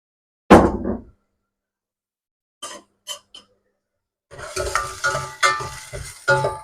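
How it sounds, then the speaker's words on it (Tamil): Food sizzling in a hot pan, with a sharp burst at first, a few brief scrapes of stirring, then a steady crackling sizzle near by. "இது வதங்கிறது."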